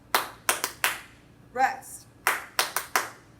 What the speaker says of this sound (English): So let's clap that rhythm together real quick.